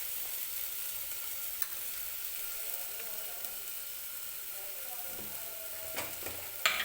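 Dry spices such as turmeric, coriander powder and red chili powder sizzling in hot oil for a green chickpea curry, a steady soft frying hiss with a few stirring clinks near the end.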